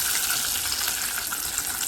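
Salmon fries dry in a hot pan, giving a steady, moderately quiet hiss and crackle that carries through the whole short stretch with no voices.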